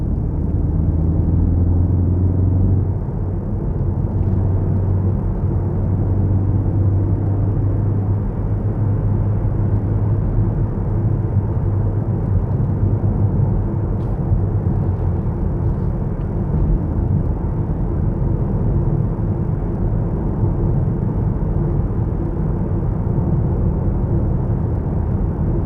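A Ford Focus ST hums along on the road from inside the cabin, its engine and tyre rumble a steady low drone with no talking.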